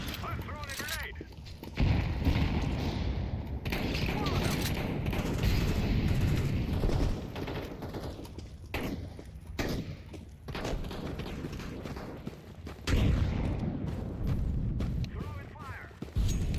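Grenade thrown and exploding in Counter-Strike 2, with heavy booming blasts and gunfire thumps recurring across the stretch amid steady game noise.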